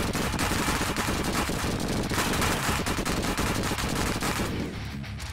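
Minigun in Madness: Project Nexus firing a relentless rapid stream of bullets, loud and unbroken, the rattle cutting off abruptly near the end.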